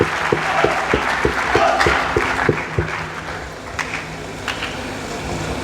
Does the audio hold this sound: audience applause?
yes